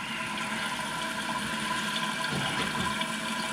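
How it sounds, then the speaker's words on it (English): Kohler toilet tank refilling after a repair, a steady close hiss and rush of running water with faint gurgling, constant throughout and without voices. "Toilet's filling."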